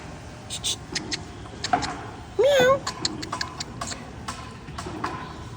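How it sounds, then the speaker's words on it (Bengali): A cat held at an emergency vet clinic gives one short meow that rises and falls, amid scattered ticking and clicking handling sounds in a quiet room. "ওই যে ওই বিড়ালটারে আটকাইছে, পালাবে কোথায়?"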